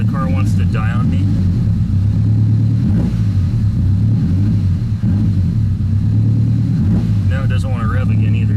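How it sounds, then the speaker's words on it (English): A car with a dirty throttle body idles roughly, its engine rumbling low and unevenly as it sputters and dips toward stalling, with brief bursts of a man's speech near the start and end. "See how the car wants to die on me?"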